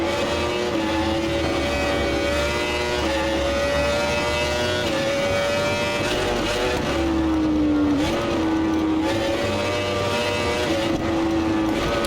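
Yamaha R1M motorcycle in the racing game Ride 4, its engine revving steadily and loudly with rising and falling pitch as the throttle opens through corners, a continuous close engine drone with no talk.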